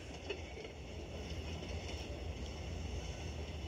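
A toy model logging locomotive runs steadily along its track, a faint, continuous rolling rumble with light clattering heard at a distance.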